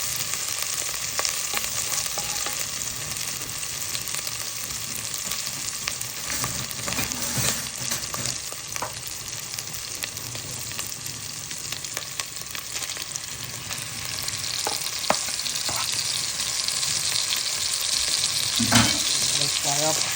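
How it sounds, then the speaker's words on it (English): Turkey meat fries hard in a pan, a loud, constant sizzle broken by stirring scrapes and spatula knocks, up close with no talking. "Let's fry up."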